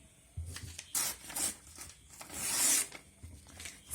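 Paper strip torn along a ruler's edge to make a handle for a paper flower basket: a few short scraping rips, then one longer louder tear, all close and fairly quiet.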